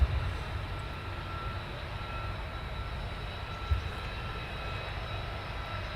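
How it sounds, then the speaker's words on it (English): F-16 fighter jets taxiing across the runway at RAF Lakenheath, a steady distant engine whine and rumble holding level throughout, with a faint whistle above and no talk. "F-16s are taxiing across the runway"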